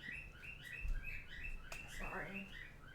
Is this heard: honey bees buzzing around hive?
no